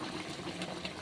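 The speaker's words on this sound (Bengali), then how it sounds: "বলক চলে আসছে তরকারিতে।" A curry of ridge gourd and puti fish bubbles in a pot as it comes to a boil, a dense, steady close simmering hiss with a soft churning rumble throughout.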